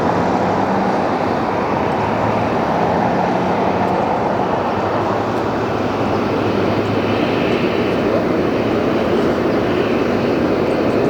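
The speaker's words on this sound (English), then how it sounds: "Let's watch the aircraft take off." Airliner taking off at LAX, a loud continuous jet engine roar that holds steady and broadband throughout, heard from nearby without any talking.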